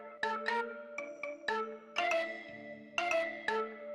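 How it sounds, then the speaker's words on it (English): Dry trap beat melody with reverb and delay switched off, plucky synth notes in a steady bouncing pattern with a short low bass dip near the middle, clear and close with no voices. "And without like the reverb and delay buses on, it would sound like this."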